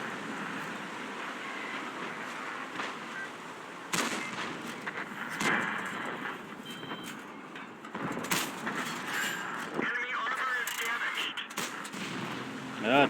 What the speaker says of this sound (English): Two nice penetrating shots.